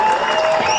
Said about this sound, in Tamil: நம்ம கண்ணன் சாருக்கு மிகப்பெரிய கரகோஷம் கொடுக்குறேன்